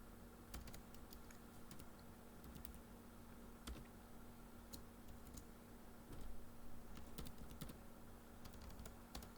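Quiet, steady typing on a computer keyboard, with irregular soft key clicks and occasional sharper taps going on throughout.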